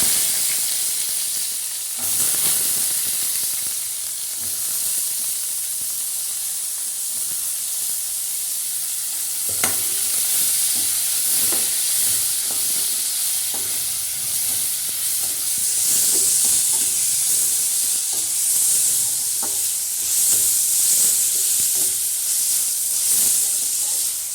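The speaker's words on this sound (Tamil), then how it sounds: "வெங்காயம் நல்லா வதங்கிடுச்சு ஃப்ரெண்ட்ஸ்" Onions sauté in a hot pan with cinnamon, cloves, fennel and cardamom for a goat lung gravy. A steady, close, hissing sizzle is broken by scattered stirring clatters, and no voices are heard.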